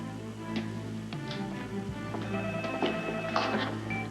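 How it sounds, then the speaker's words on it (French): A telephone bell rings in a home, a bright repeated trill over a low background hum, with faint tapping and movement sounds around it. "Téléphone."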